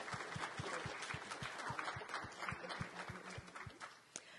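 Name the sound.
conference audience applauding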